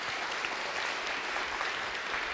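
Steady, dense applause from an audience welcoming a college team at the 2010 Jeunes démocrates youth tournament final, an even wash of clapping that fills the whole moment without a break.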